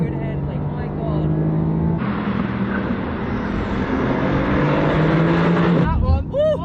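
A Mercedes AMG car drives fast, its engine roaring loud and close inside the cabin as it accelerates and shifts, with excited voices talking over the engine noise.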